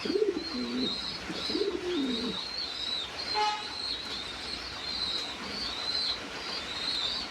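Big, football-sized fancy Mundian Show King pigeons coo close by in low, throaty bursts, especially at the start, over a background of higher chirping from other birds on a farm.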